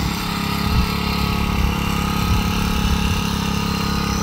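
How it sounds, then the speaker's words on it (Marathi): A Baliraja weeder with a 50cc petrol engine and a 1-litre tank runs steadily in a cabbage field, fitted with a 1.5-foot tine attachment, giving a continuous close buzzing drone with even vibration and no pauses. "1 लिटरची पेट्रोलची टाकी याला दिलेली आहे। 50 cc ते इंजिन याला आहे।"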